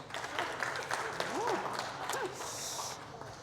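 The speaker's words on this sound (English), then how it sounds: "Can we give Heather a round of applause, please?" Audience at a senior self-defense session giving a round of applause, a steady wash of many hands clapping at moderate distance, with voices talking over it.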